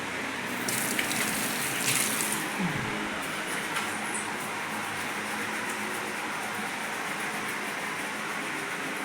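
Hot water gushes steadily into a tub for soaking kitchen chimney parts, a continuous hissing pour at moderate volume with a few faint clinks early on.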